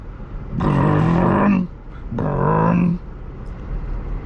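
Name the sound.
Mercedes AMG E55 Kompressor engine, high-pitched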